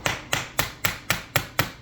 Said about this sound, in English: with the plastic hammer